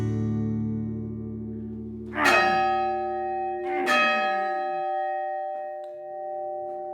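Church bell in the village of Gabrovnitsa rings out with two loud, resonant strikes about a second and a half apart, each leaving a long humming decay that lingers over a quiet background.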